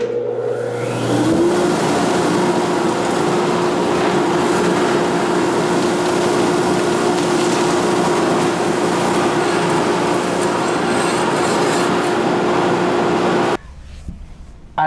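A shop dust collector with its barrel on wheels starts up and runs steadily with a loud, even whir and hum, then cuts off abruptly near the end.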